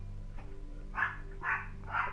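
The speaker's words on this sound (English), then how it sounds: "If you hear barking in the background, that's my mascot for the day, Happy the dog" A small white fluffy dog barks three times at an even pace, moderately loud, somewhat distant, over a low steady background hum.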